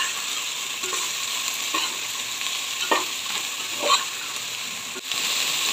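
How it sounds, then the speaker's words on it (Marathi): Finely chopped cabbage and capsicum stir-fried in a pan for veg fried rice, giving a continuous moderate sizzle with periodic scraping stirs about once a second, and no talking. "बारीक चिरलेला कोबी पण टाकून घेते। छान प्रकारे सगळं मिक्स करून घेते।"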